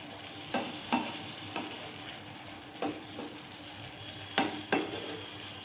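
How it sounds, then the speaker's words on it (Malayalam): Masala-coated mushrooms are stirred in a pan over a soft steady sizzle, with about eight distinct scraping strokes spaced irregularly, close and moderately quiet. "മസാല എല്ലായിടത്തും പിടിക്കണ രീതിയിൽ നല്ല രീതിയിൽ ഇളക്കി കൊടുക്കണം"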